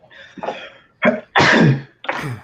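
A close, loud sneeze bursts out in a few sharp explosive bursts, with a brief breathy lead-in.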